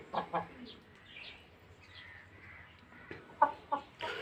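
Several short clucks and squawks from Aseel roosters on a farm, brief bursts with quiet gaps between them, a person speaking faintly in the background.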